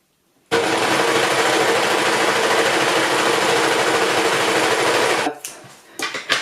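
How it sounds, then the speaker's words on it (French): An overlocker hums loudly and continuously at close range while serging the edge of fabric for a beach dress, running steadily for about five seconds before stopping with a few handling clicks. "un deuxième passage de mon surjet"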